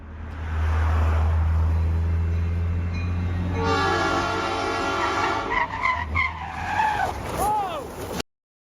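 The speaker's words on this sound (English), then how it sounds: "the friends heard the unmistakable sound of screeching tires coming up behind them" Car tires screeching near a railway line just before a train collision, a long loud skidding squeal followed by rising tonal screeches, with a train horn and a voice mixed in before an abrupt cut.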